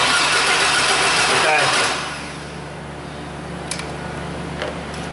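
A GMC Jimmy with a no-spark fault cranks for about two seconds, then the engine catches and settles into a steady mid-pitched idle, close and loud, with brief voices nearby.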